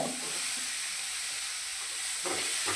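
Chopped onion sizzling as it is added to a hot pan, a steady bright hiss of frying throughout, with a brief surge of crackle near the end.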